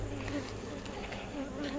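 Honeybees buzz steadily and close during a hive inspection, a brief continuous hum with a faint voice-like trace under it.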